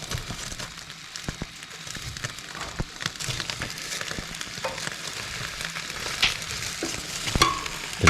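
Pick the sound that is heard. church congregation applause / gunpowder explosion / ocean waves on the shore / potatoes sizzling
potatoes sizzling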